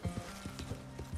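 A horse in the Red Dead Redemption 2 video game clip-clops along. Hoofbeats sound in a quick uneven rhythm, faint and close, with a low snort-like tone beneath.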